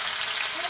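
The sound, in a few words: duck meat sizzling as poured into pan on clay stove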